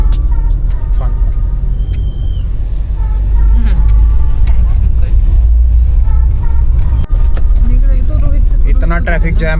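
Traffic jam on a road between Sanjauli and Dhalli: a loud, steady rumble of car and bus engines with occasional higher tones, heard up close from inside or beside a vehicle.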